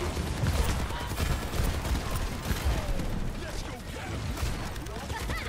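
Rapid gunfire crackles in a video game, a dense continuous stream of shots and mechanical clatter at a steady moderate level, with voices blending into the din.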